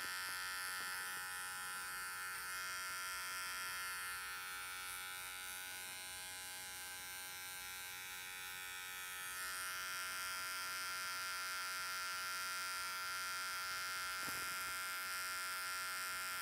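Hair clippers buzz continuously while cutting a tight fade, a steady, bright, even electric drone that holds throughout with only slight changes in intensity and no talking.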